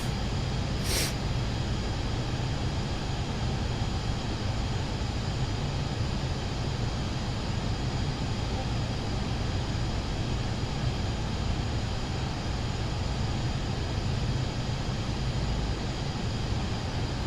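A Pilatus PC-24 business jet climbs out in Microsoft Flight Simulator 2024 over Papua New Guinea, with a steady, loud, unbroken engine roar and one brief click near the start.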